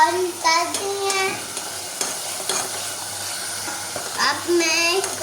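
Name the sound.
frying and stirring in a pan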